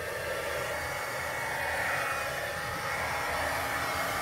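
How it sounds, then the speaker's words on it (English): A heat gun blows a steady, even whoosh of hot air to reheat embossing powder, held at a distance, constant and moderately loud with no talking. "going to bring in my heat gun and I'm going to reheat that embossing powder a little bit"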